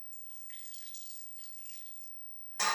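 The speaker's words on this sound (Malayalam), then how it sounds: "കുറച്ച് വെള്ളം ഒഴിച്ചു കൊടുക്കാം." Water trickles softly into a salted batter mix in a bowl, a faint running pour that ends in a sudden louder splash.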